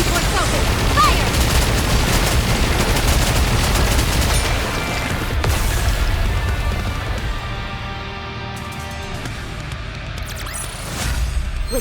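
Ship cannons fire a volley in the video game NIKKE. A loud, dense barrage of booms rolls on for several seconds, then eases into a lighter rumble with a final swell.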